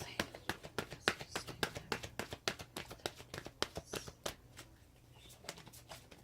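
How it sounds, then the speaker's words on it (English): Oracle cards from a Romance Angels deck being shuffled, a rapid run of crisp riffling taps close up that thins out and slows near the end. "Let me pull out some cards from the Romance Angels."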